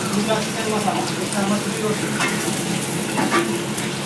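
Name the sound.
mutton frying at a dhaba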